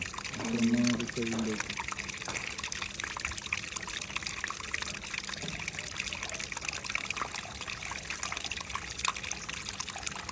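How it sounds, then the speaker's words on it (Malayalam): Muddy water pours and trickles steadily into a filter, running continuously throughout with a brief splashy burst near the start; speech-like sounds occur over the flow. "ഇതിലേക്ക് ചളിവെള്ളം വരുന്നങ്ങനെയാണ്"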